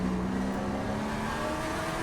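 A TA2 series race car roars steadily around a racetrack, the engine note loud and continuous with a slight pitch shift as it holds speed, no voices heard.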